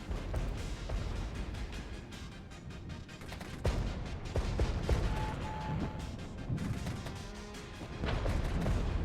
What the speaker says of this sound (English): I believe our artillery strike is also coming in this turn.